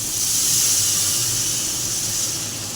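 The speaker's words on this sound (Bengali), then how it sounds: "এবার আমি জল ঢেলে দিচ্ছি।" Water poured into hot fried spice paste for a Bengali loitta fish curry sizzles in a loud, steady hiss that holds evenly throughout, with no talking.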